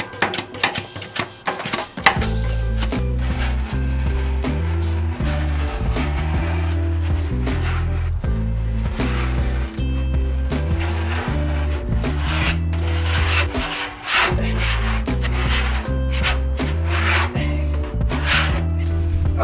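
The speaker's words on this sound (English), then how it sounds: "The last thing that we gotta do, and probably the dirtiest part, is scraping all that stuff at the bottom." Rough, rhythmic scraping of residue from the bottom of a BBQ smoker, repeated rasping strokes continuing steadily and close up with no talking.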